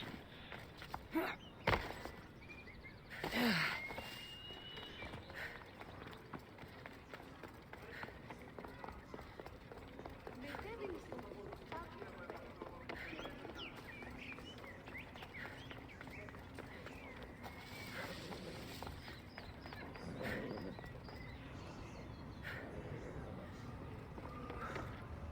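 Horses in a video game clip-clop along at a steady trotting rhythm, heard under ongoing character dialogue and game sounds, with a few sharp louder hits near the start.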